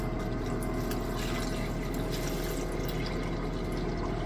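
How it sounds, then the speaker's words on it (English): Hydrochloric acid poured into a beaker while refining RAM chips for gold, a steady close trickle of liquid with faint drips under a constant background hum. "a little more HCl in there"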